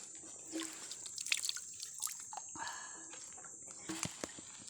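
Water trickling and dripping from a small mountain spring, close and soft, with irregular splashes over a steady high insect buzz.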